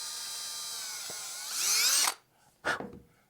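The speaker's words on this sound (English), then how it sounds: "I'm gonna drill a little hole right in one side right here." Power drill boring holes into a plastic Gatorade bottle cap: a rising high whine that builds into one loud burst, falls silent, then bites again in a shorter second burst, with no talking.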